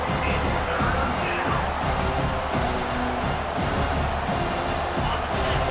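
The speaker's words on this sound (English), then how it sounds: "Decibels rising as the crowd gets behind this defense on 3rd down" A stadium crowd in EA Sports College Football 25 roars steadily on a third-down defensive stand, a dense, loud wash of cheering that never lets up.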